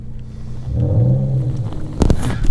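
A Nissan 300ZX Z32 engine rumbling low and steady nearby, a deep droning growl that swells briefly before a sharp knock-like burst near the end.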